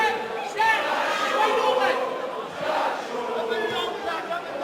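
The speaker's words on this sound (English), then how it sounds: "the crowd haven't stopped cheering and chanting and applauding everything that Jack Shaw does" A Cage Warriors MMA crowd keeps up sustained cheering and chanting, a dense roar with rhythmic swells that carries on without a break.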